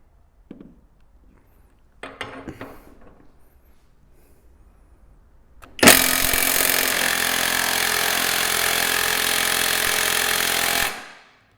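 An Ingco cordless impact wrench hammers at a stubborn nut it cannot undo, a loud, steady, buzzing rattle lasting about five seconds before it cuts off. A few faint clicks and handling knocks come before it.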